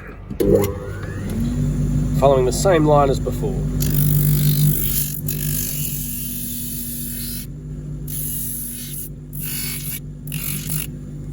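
A workshop grinding machine used to shape orthoses, with its vacuum extraction not working, spins up into a steady mid-pitched motor whine that runs on for several seconds. A person talks over the start, and faint scraping is mixed in.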